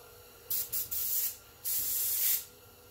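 Airbrush spraying air in short bursts: three quick sprays, then a longer sustained spray, each stopping abruptly with quiet between.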